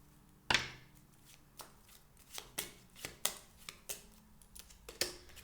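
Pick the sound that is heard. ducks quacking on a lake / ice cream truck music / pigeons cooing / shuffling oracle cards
shuffling oracle cards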